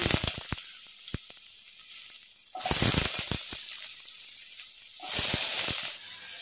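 Vegetables hitting hot oil tempered with panch phoron, giving loud bursts of crackling sizzle that swell twice and then ease back, with sharp spits and pops in the quieter stretches between.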